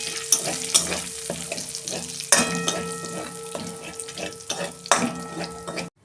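Cumin, dried chili, cinnamon and cardamom sizzle in hot oil left from frying ash gourd, a steady close crackle punctuated by spatula scrapes and clinks of stirring, ending with a sharp knock.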